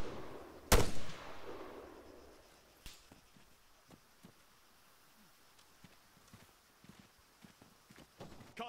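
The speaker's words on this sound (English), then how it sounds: "Taking fire!" Gunfire in the military shooter ArmA 3 during a co-op Invade & Annex mission: one loud, close shot early on, then scattered fainter, distant pops and cracks with no talk.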